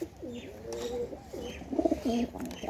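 A pigeon coos in a low, rolling series of repeated calls at close range, with a second soft bird call in the background and no talking.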